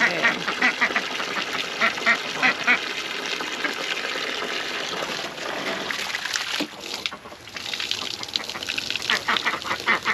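Domestic ducks quack repeatedly at close range while dabbling their bills in mud, with splashy, wet rustling underneath and a short pause before the quacking resumes.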